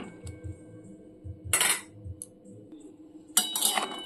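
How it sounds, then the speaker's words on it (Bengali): Boiled fish roe lifted out of a kadai with a metal utensil, giving a few sharp clinks and scrapes against the pan and small taps in between, close and alone without speech. "ডিমটাকে কড়ার থেকে তুলে নিচ্ছি"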